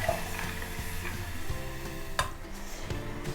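A pan of tamarind water bubbles and sizzles steadily on the stove, with a light metallic clink partway through.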